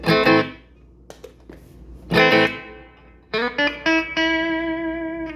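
An electric guitar through an amplifier head's overdrive channel: chords ring out and decay, then a run of distorted notes sustains, loud and close, with no talking.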